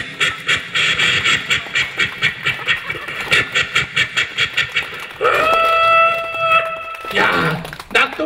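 A voice imitates a slow local train: rhythmic chugging puffs that build steadily, then a drawn-out whistle-like wail near the end, loud and close.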